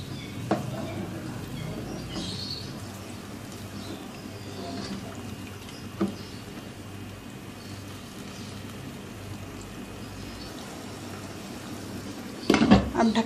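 A low, steady bubbling of water boiling in a pot for chana pulao, with soaked rice about to be added, continues throughout, with a couple of faint clicks and a louder clatter near the end.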